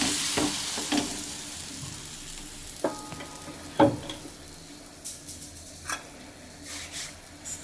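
Sweet potato holige being placed on a hot pan gives a faint, soft sizzle with occasional light taps and scrapes of a spatula, fairly quiet throughout.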